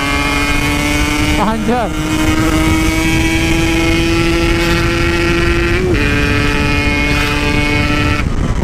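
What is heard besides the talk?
Yamaha RX King motorcycle engine sputtering when revved, spark plug failing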